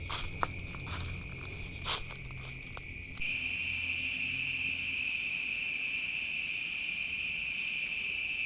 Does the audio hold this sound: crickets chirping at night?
yes